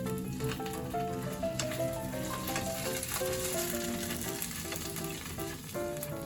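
An okonomiyaki cooks in a covered pan over low heat, giving a quiet continuous sizzle with faint light rattles, steady throughout with no one speaking.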